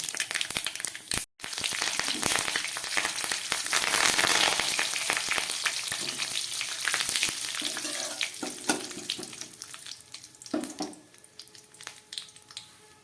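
Mustard seeds tempering and curry leaves sizzling in hot oil for arhar dal, a loud continuous crackling fry with popping and spattering throughout, a brief dropout early on, no speech.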